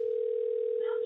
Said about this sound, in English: I'll call the phone.